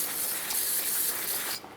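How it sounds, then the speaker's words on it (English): A continuous hissing spray from an aerosol can of brake cleaner on a Subaru Forester rear hub, close and loud for over a second, then it cuts off abruptly. "So I'm just going to spray it down, a little brake clean."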